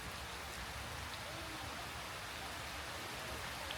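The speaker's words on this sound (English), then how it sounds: "it's starting to rain here" Steady rain pours down at Indiana Dunes near a parking lot, a dense even hiss of drops holding at the same level from start to end with no break.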